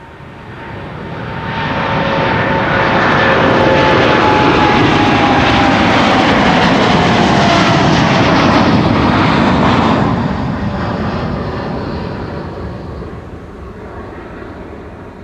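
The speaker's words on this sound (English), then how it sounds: "KLM Flight 789, flown by a Boeing 789 in the new livery by the looks of it." A KLM Boeing 787-9 takes off at Amsterdam Schiphol: loud jet roar with a steady engine whine swells over a few seconds, holds at full power, then eases into a fading rumble as the airliner climbs away.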